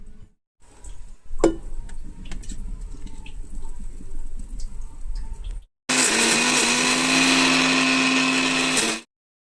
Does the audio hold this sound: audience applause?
no